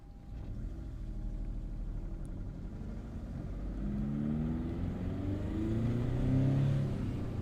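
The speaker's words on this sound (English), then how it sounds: "So we'll just sit and rev it here." A 2011 Seat Ibiza 1.2 TDi diesel with a turbocharger boost-control fault revs while stationary, a steady engine drone rising and climbing in pitch through the second half, close and fairly loud with no talk.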